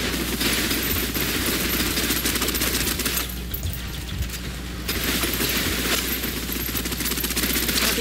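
Sustained automatic gunfire in the video game Snowbreak, a dense rapid rattle of suppressive fire that runs almost without pause, briefly easing in the middle before resuming, loud and close.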